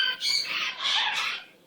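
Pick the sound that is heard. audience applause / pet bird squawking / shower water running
pet bird squawking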